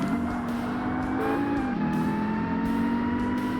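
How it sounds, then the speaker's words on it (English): Ferrari 360 engine droning behind a Corvette during an AI race in Forza Motorsport on the Xbox, a steady sustained tone with a shifting pitch that dips midway and then holds, moderately loud with no talk. "That's the 360. I was like, what am I hearing behind the Corvette?"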